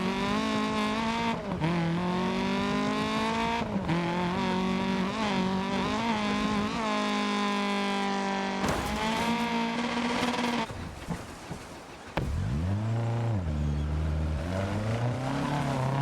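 A Lancia rally car in a racing video game, running on a flat tire, roars steadily, its engine pitch climbing and dropping through repeated gear shifts, briefly easing off before revving hard again, with no voices over it.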